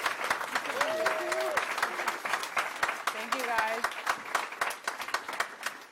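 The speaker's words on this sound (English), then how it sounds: "Give them a round of applause." An audience applauds graduates at a gemology guest lecture event, steady clapping filling the hall throughout while a speaker talks briefly over it.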